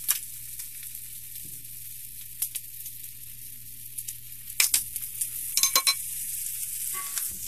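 Carrots sizzle and hiss steadily in a hot pan on high heat for a noodle stir fry, with occasional sharp scrapes and clatters of stirring, close and without talk.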